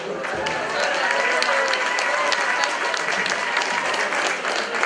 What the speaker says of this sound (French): je vous demande s'il vous plaît de vous applaudir également